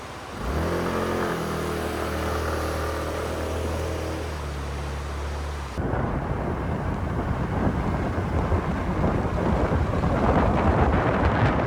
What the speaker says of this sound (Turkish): Geçenki videoyu bu fırtınada bitirmiştik arkadaşlar.